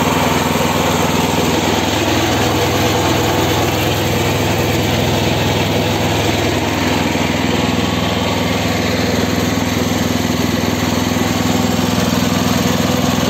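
A mini tractor engine drives a pipe bender, running loud and steady at constant speed throughout, with a continuous mechanical drone and faint rattling from the bending rollers.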